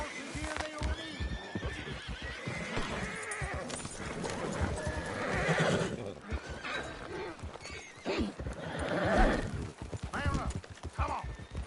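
In a video game, horses whinny loudly and hooves clip-clop in a steady trot, mixed with game sounds while a voice talks over them.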